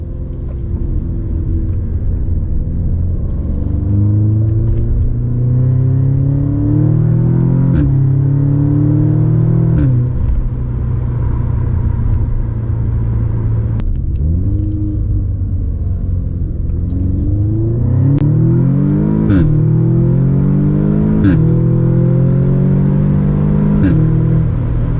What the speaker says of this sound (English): And here's the sound with the resonator delete,